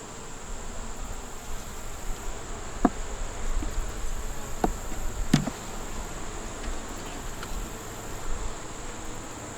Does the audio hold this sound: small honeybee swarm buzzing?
yes